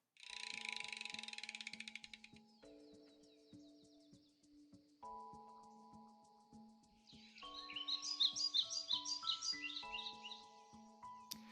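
Bright chirping bird calls in the Blue Archive video game, short tweets in quick bursts at the start and a denser flurry near the end, layered over steady game music tones.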